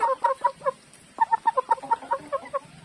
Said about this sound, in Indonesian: Oke, kita bersama ayam-ayam.